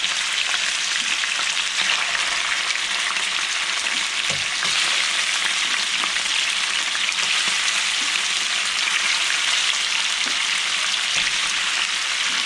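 Trout cutlets fry loudly in a pan at a lakeside campsite with a thick, unbroken sizzle and a few soft knocks, close and steady throughout with no talking.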